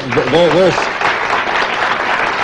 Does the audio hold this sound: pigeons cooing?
no